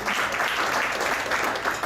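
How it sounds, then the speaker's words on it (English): Audience applause at an ESPN Friday Night Fights press conference for boxer Marvin Payano, steady and dense with no breaks. "This is one of the places people would actually clap when I say that."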